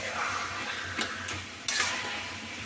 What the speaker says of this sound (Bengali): দিয়ে আবার একটু নাড়াতে হবে।